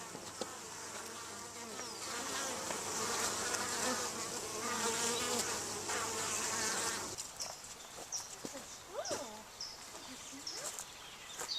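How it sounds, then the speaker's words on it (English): Honeybees buzz thickly around garden beehives, a dense close droning swarm that holds steady for about seven seconds and then drops away, leaving a few faint bird calls and light background sounds. "Those are the beehives."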